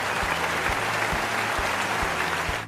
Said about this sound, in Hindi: चलें थोड़ी सी तालियां कर दें।